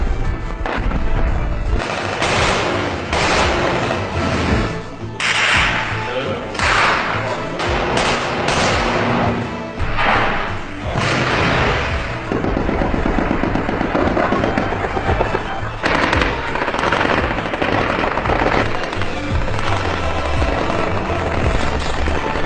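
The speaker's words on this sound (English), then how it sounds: "Is the Egyptian army shooting rockets, RPG, missiles, tanks?" War footage thick with gunfire, rocket blasts and heavy explosions, loud and continuous, booms and crackling bursts overlapping with almost no pause.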